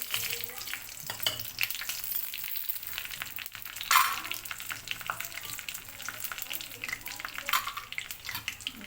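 Stemmed red chillies fry in hot oil, a dense crackling sizzle that runs steadily throughout with occasional louder pops and stirring, close and moderately quiet.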